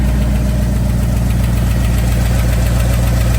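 A 1985 Ford Bronco with headers and MSD ignition idles loud and close, a steady throbbing rumble with an even, slightly lumpy pulse and no voices over it.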